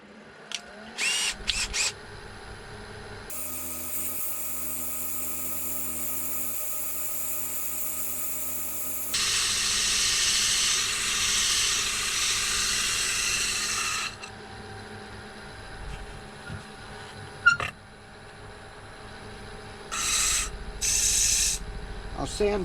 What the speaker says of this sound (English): Maybe I'll sand in there just a touch more